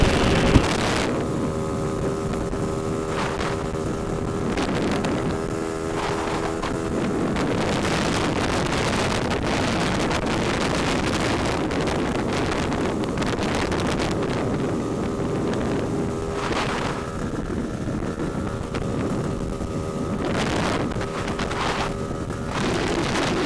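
A GT300LC engine on its first test run drones steadily beneath heavy wind rush while riding at speed, a continuous, fairly loud mechanical hum with no talk.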